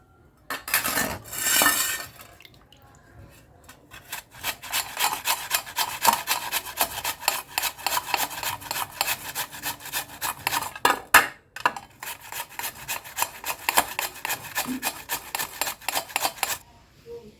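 Peeled potatoes are grated by hand in a village kitchen, a dense, continuous rasping scrape of rapid strokes, close and fairly loud, pausing briefly near the middle before the rhythmic grating resumes.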